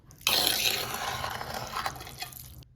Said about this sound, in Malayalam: പുളിയിലേക്ക് ലേശം വെള്ളം ഒഴിച്ചു, പുളി വെള്ളം ഉണ്ടാക്കാൻ.